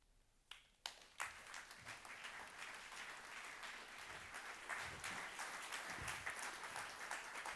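Audience applause fills a university's 30th-anniversary ceremonial academy hall, starting with a few sharp claps and swelling into steady, even clapping that carries on to the end at moderate distance.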